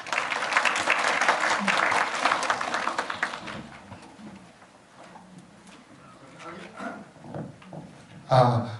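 A lecture audience at a software thinking olympiad information session at Seoul National University of Education applauds, the clapping loud for a few seconds, then dying away into a quieter room with scattered sounds and speech.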